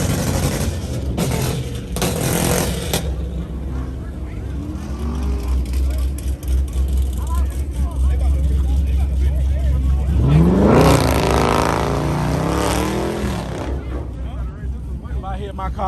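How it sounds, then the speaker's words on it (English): Car engine at a street car meet revving high on the RPM and then coming off the gas, with the exhaust popping; loud and continuous, a strong rev swell near the end, with people talking throughout. "the exhaust naturally pops."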